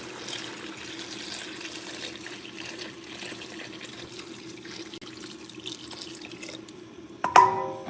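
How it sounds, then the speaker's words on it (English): Liquid is poured steadily into a cooking pot at home, a soft continuous trickle and splash running for several seconds, ending in a brief louder clatter. "So I'm gonna take this liquid, literally just gonna pour it."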